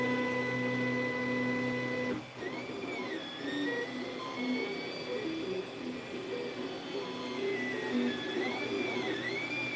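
An Ender 3 3D printer runs a print with a newly installed hotend, its stepper motors whining in steady tones and sweeping pitches over a constant fan hum, loud and close throughout with no talking.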